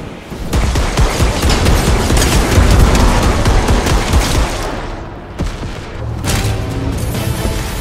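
Heavy gunfire in the Fortnite video game: dense, loud bursts of shots and booms pile up almost continuously, with a brief lull before the firing resumes. No one talks.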